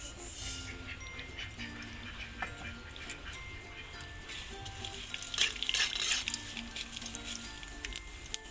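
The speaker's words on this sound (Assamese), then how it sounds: "তেল মোৰ গৰম হৈ গৈছে মই এতিয়া ইয়াত সৰিয়হখিনি দিম" Mustard seeds hit hot oil in a pan while a jujube pickle is being made, giving a steady crackling sizzle with scattered sharp pops and a few faint clinks of utensils.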